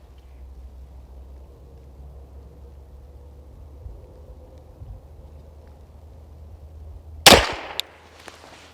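A single sharp, loud pistol shot from a Tisas 2011 Carry DS fitted with an optic cracks near the end, after a stretch of quiet outdoor hum, followed by a short ringing tail and a faint echo.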